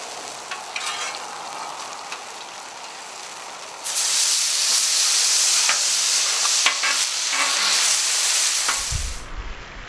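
Sausage patties fry on a Blackstone griddle with a steady hiss. The sizzle jumps louder partway through as the meat is moved, then keeps crackling up close with small scraping taps from a spatula.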